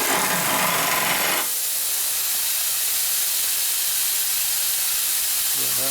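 Compressed air hisses from a leak near a 1965 Harley-Davidson Panhead 74ci FLH motor under rebuild in a machine shop, a loud steady broadband hiss throughout, with a louder burst in the opening second and a brief faint tone near the end.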